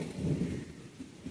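Low thunder rumbles through a brief, steady wash of wind and rain during the first shower of the season at a Konkan village house, moderately loud with no voices.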